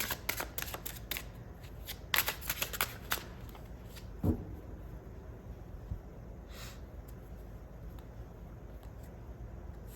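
Tarot cards being shuffled close by, with a burst of quick riffling flicks at the start, a sharper slap or two midway, then quieter handling of the deck fading into a soft room background.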